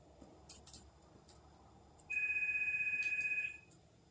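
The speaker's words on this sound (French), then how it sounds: "il y a le téléphone qui sonne" A telephone rings with one faint electronic ringtone burst lasting about a second and a half, heard from a distance in an otherwise quiet room.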